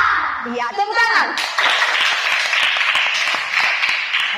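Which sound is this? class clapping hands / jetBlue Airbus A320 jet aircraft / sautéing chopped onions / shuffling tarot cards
class clapping hands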